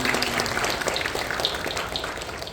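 A church congregation applauds during a Sunday worship service, a steady dense wash of clapping from many hands filling the room for the whole moment.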